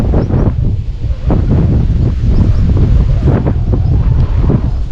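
Strong, gusty wind buffets the microphone at a riverside fishing spot, a loud continuous roar with surging bursts and no speech.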